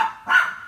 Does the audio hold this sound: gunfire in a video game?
no